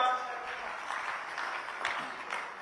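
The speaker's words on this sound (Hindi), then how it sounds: "तो जोरदार तालियों से स्वागत करिए मोहन यादव जी का।" Audience applause welcoming the Chief Minister onto the stage at a televised media event, a steady, moderately distant wash of clapping that holds evenly throughout, with faint voices mixed in underneath.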